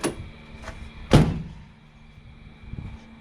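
A Ford Galaxie 500's door swings shut with one firm, close thud after a light latch click, followed by quieter handling knocks.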